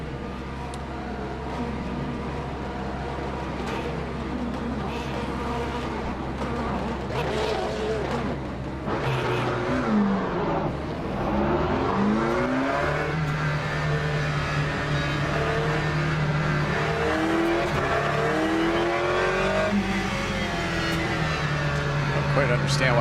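Race car engines drone steadily during a formation lap in the racing game Le Mans Ultimate. A low hum rises into shifting revs as the cars move off, with a voice talking over it.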